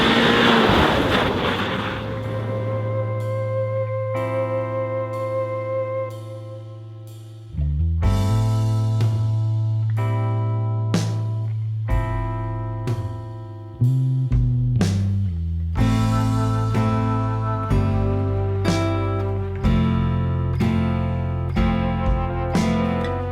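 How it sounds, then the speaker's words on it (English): A Seat Leon ST Cupra with a 300 hp engine, DSG gearbox and all-wheel drive starts up in snow, then idles with a steady low hum that steps up and down in loudness as it is revved, close by and alone. "Here we'll get this engine going here on the snow today."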